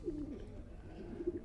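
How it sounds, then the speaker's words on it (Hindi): A racing pigeon coos softly, low throaty murmurs repeating in a short burst, faint and close with a quiet background. "वो कबूतर है।"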